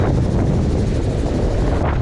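Strong wind roars across the microphone on open sea while sailing near Nevis, a loud, constant rushing buffet that holds steady throughout.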